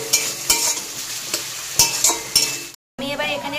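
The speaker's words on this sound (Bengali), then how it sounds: "ভালো করে নাড়িয়ে নিই।" Ginger-garlic paste sizzles in a hot pan while a spatula stirs it, giving steady frying hiss with several knocking scrapes, a brief silent gap, then fainter sizzling under a voice.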